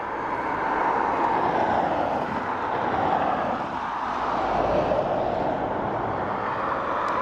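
Ryanair airliner at Dublin Airport, a steady broad engine roar that holds loud and even throughout, with no voices over it.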